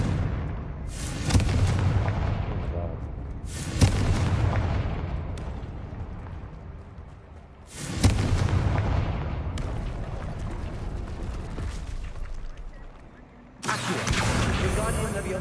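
Confringo spell blasts in the video game Hogwarts Legacy: four loud booming explosions, each a sudden burst followed by a long rumbling decay, coming roughly every four seconds.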